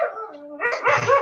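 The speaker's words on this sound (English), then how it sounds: "Sorry about the dog barking." A dog close by lets out a brief howl that rises into a couple of rough, loud barks, all within about a second.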